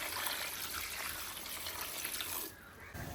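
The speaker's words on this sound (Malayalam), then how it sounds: "ഇനി നമുക്ക് അതിലോട്ട് ആവശ്യത്തിന് വെള്ളം ഒഴിച്ച് കൊടുക്കണം." Water pours steadily into a pot holding tomatoes, onions and cashews for a makhani gravy base, a continuous close splashing trickle that briefly drops away near the end.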